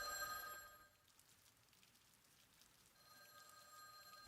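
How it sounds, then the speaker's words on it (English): A telephone rings in the Witch on the Holy Night visual novel, a faint electronic tone that sounds at the start, drops to near silence, then rings again before a sharp click at the end. "That persistence made the volume of the ringing seem even louder."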